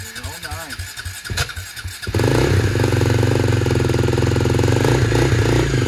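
An old 2009 KTM ATV engine, run on choke, sputters and catches about two seconds in, then settles into a loud, steady, rapid idle chatter. Voices are heard before it starts.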